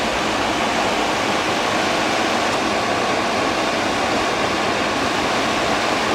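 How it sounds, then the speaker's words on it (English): A Fedders A1M10E2A window air conditioner's condenser fan blows a strong, steady rush of hot air out the back, a loud continuous whooshing that holds even throughout. "A ridiculous amount of air is coming out of the back of the condenser."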